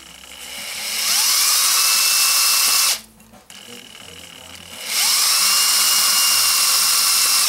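Power drill boring holes into an aluminum Bud Light bottle, a loud steady whine that runs, cuts out briefly with a short pause, then resumes at full strength.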